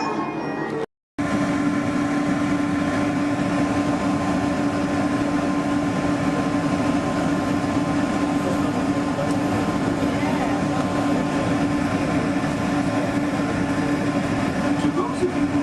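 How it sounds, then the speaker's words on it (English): Disneyland monorail train riding, a steady loud rumbling hum with a constant droning tone throughout, briefly cut by a short gap near the start. "welcome aboard the Disneyland monorail"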